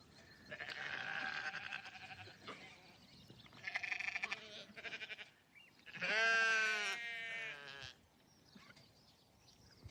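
Sheep bleat repeatedly during sheepdog herding, several wavering, drawn-out calls of varying pitch, fairly close and clear against a quiet background, one louder cry standing out near the middle.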